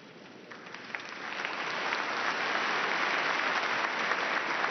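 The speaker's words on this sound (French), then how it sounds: "Un discours de Benoît XVI très applaudi dans cette synagogue de Rome." Applause inside the synagogue of Rome after a speech by Pope Benedict XVI, a large audience clapping that swells from moderate to full, dense and sustained, with no voices over it.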